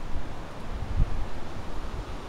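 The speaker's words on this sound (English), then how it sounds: "It's a bit windy out there." Steady outdoor wind rumbling and buffeting a microphone, low and broadband, with a brief stronger gust midway.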